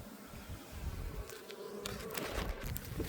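Steady insect buzzing of several honeybees at an open nuc hive during an apiary inspection, fairly close, droning continuously with no talking.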